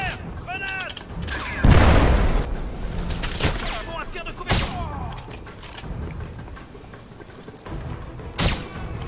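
Gunfire and a grenade blast in the video game 007 Legends: a heavy explosion followed by scattered sharp shots, with in-game voices calling out in between.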